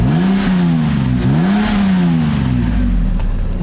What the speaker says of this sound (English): Let's give you a little bit of a rev. It has apparently a custom exhaust.